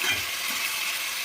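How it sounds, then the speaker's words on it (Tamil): Green turkey berries sautéing in a pan, giving a steady soft sizzle and hiss with faint stirring underneath. "நல்லா வதக்கிக்கிடணும்"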